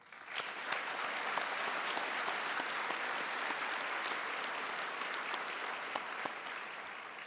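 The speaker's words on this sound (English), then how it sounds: "I believe they deserve a round of applause as well." A large audience claps steadily at a college graduation convocation, a dense, sustained wash of applause heard from within the hall for several seconds.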